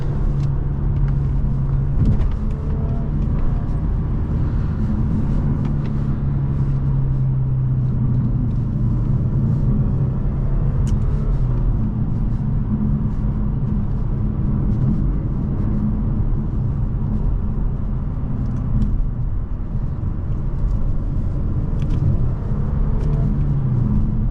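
A 2012 Audi A7 3.0T Quattro with paddle shifters drives steadily, giving a continuous loud low rumble of engine and road noise from inside the cabin with no talking.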